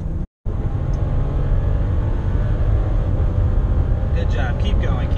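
A 2017 Bentley Bentayga SUV pulls away hard on the Lime Rock Park race track, its engine a loud, steady, close rumble that fills the cabin, with brief voices near the end.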